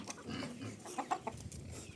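A chicken gives a few soft, quiet clucks nearby against a faint background, with no talking.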